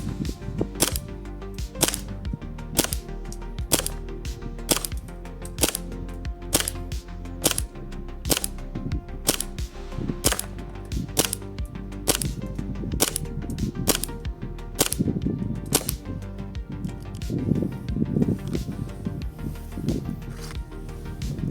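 Airsoft BBs fired repeatedly at a silicone mask insert backed by cardboard, a long series of sharp snapping shots in a roughly regular rhythm, close and fairly loud.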